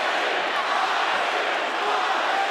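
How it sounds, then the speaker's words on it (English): A capacity crowd at a boxing arena cheers steadily for a Ukrainian fighter, a dense, continuous roar that fills the hall without letup. "the capacity crowd here continuing to cheer for their man"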